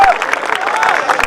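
A crowd claps loudly and steadily at a kavi sammelan poetry recital, dense applause from a large audience with a voice briefly audible over it.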